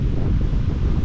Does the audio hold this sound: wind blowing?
yes